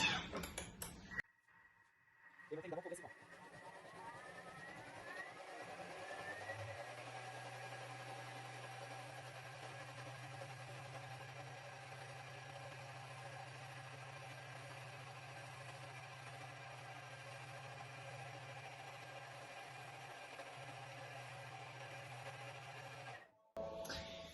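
A Thermomix blends tomato soup at speed 10, a steady whirring hum that holds for about twenty seconds after a short start-up and then cuts off abruptly, close and moderately loud with no talking.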